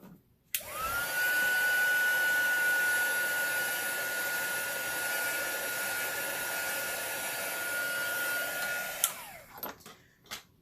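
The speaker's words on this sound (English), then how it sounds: "So if you don't have a heat gun, a blow dryer will work just fine." A hair dryer switches on with a click and blows steadily at close range for several seconds, drying alcohol ink paint, then shuts off and winds down.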